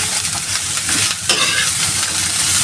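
Cabbage sautéing in a pan for an egg omelette, a loud, close sizzle with stirring scrapes running throughout.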